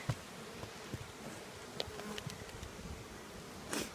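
Honeybees buzz around an opened beehive as honey supers are pulled during harvest, a steady faint drone with occasional louder passes of individual bees close by.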